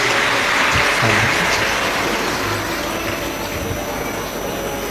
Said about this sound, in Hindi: एक बार जोरदार ताली बजाओ उनके लिए भी।